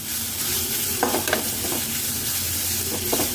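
Carrots sizzle steadily in a hot pan for carrot rice, with a few scraping stirs of a spoon breaking through the continuous frying hiss; close and fairly loud, no talking.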